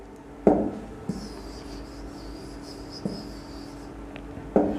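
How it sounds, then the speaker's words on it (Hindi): Pen or marker writing during a class 8 maths lesson, with a few soft scratchy strokes and taps spaced across a quiet room, a faint background hum, and no talking. "अब लिखते हैं"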